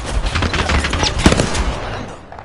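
Rapid gunfire bursts in a PlayStation 4 battle royale game, loud and dense with a sharp crack near the middle, continuous over game ambience, with no talk.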